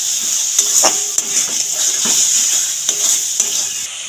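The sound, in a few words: stir-frying prawns in spice masala in a pan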